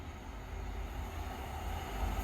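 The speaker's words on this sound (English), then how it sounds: "So here comes this freight train." Class 66 freight train coming through Belper, a broad low rumble of diesel engine and rolling wagons that builds steadily louder as it draws closer, with no voices.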